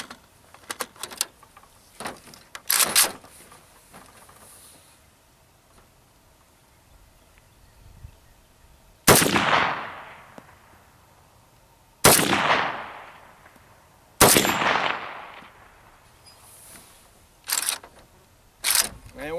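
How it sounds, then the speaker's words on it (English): An AK rifle fitted with a KNS adjustable gas piston, dialed fully closed, fires single rounds outdoors. Three sharp, loud reports ring out well apart, each with a decaying echo, alongside scattered clicks and handling noise. "Now I have the piston dialed all the way closed, so we'll let off a couple of rounds."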